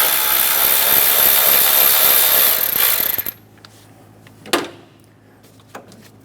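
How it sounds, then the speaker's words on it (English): A 10mm socket loosens the top bolt on a 1994-1997 Honda Accord 2.2L four-cylinder engine, a loud continuous mechanical rasp for about three seconds before stopping abruptly, followed by a couple of faint knocks and clicks. "Using a 10mm socket, we're going to loosen this top bolt."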